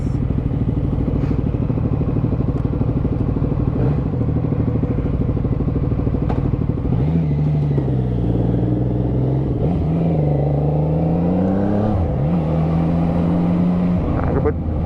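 A CFMOTO 675NK motorcycle engine warms up with a steady close idle, then revs in three rising and falling bursts in the second half.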